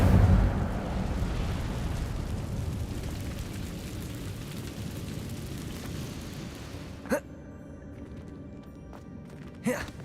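Incendio fire spell cast in the Hogwarts Legacy video game, a loud whooshing burst of flame that fades into a rushing roar, followed by two sharp pops later on.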